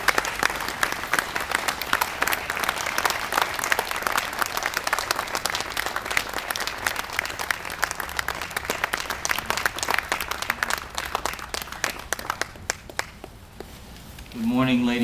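Audience applause welcoming a governor at a speaking event, a dense steady wash of clapping that holds for most of the stretch, thinning near the end as a voice begins to speak.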